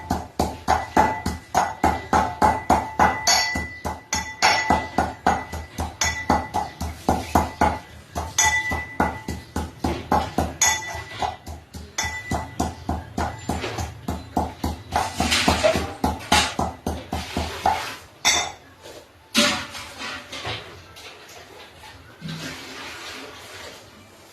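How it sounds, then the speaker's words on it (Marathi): Peanuts, garlic, onion and green chili pounded by hand, a fast, regular series of close, heavy thuds that thin out and stop near the end, followed by lighter clinks. "ही हिरवी मिरची अशी कुटून घेऊया आपण"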